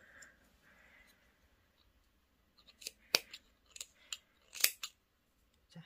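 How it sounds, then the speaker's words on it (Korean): Scissors snip through 3mm cotton crochet yarn, heard as a few sharp, close, quiet cuts and clicks in quick succession after a soft, near-silent start. "실을 이제 한 15cm에서 20cm 정도만 남기고 실을 잘라주세요"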